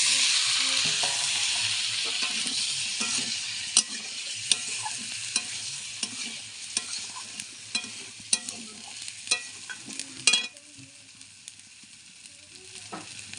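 Pre-fried eggs are stirred into a sizzling pan, giving a continuous frying hiss punctuated by repeated scraping and knocking stir strokes that grow sparser toward the end, with no talking.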